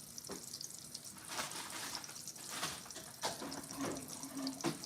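Liquid pours and splashes in a kitchen during cooking, a soft broadband rush of water interrupted by several short, louder splashes and clinks, with no speech.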